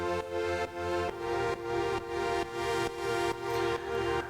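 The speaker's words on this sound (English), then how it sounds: "I'm sending MIDI notes from the Syntakt to the Volca." A Korg Volca synth with chorus and reverb plays a steady repeating pattern of sustained, shimmering notes sequenced from an Elektron Syntakt, each phrase pulsing in even beats, loud and close with no talking.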